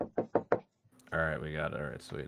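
Four sharp knocks on a door from a pizza delivery clip, evenly spaced and close, followed by a voice talking.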